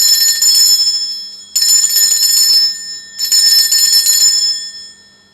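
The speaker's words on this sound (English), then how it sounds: "I'm going to ring this bell." A small hand bell rung to cleanse a space sounds three times, each bright, loud ring sustaining and fading for about a second and a half before the next strike, with no talking.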